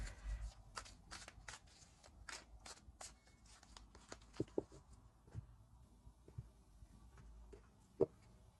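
A deck of tarot cards being shuffled nearby in a quiet room, a run of crisp riffling flicks early on, then sparser soft slaps and taps of cards being handled.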